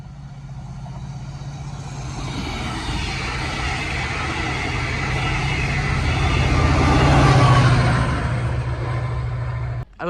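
A Network Rail test train hauled by a diesel locomotive approaches around a corner near Malton, a deep steady engine drone that swells gradually louder over several seconds before a sudden handling thump at the end.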